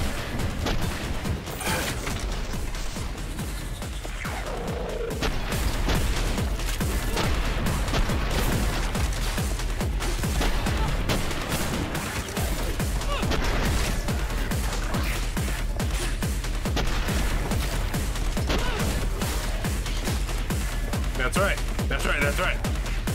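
Rapid submachine-gun fire rattles almost without pause in the shooter game Sprawl, loud and dense, layered with other game effects while someone talks over it.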